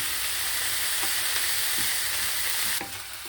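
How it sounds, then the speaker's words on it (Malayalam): Chopped banana flower sizzling and frying in a pan, a steady hiss with a few soft stirring scrapes, fairly close, with the sizzle dropping slightly near the end. "ഇതിലേക്ക് നമുക്ക് അരിഞ്ഞ് വെച്ചിരിക്കുന്ന വാഴക്കൂമ്പ് ഇട്ട് കൊടുക്കാം."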